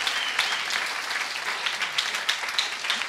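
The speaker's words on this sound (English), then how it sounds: "please let's give them a huge round of applause" An audience applauds the tutors at a youth orchestra graduation, with dense, sustained clapping filling the room at an even level throughout.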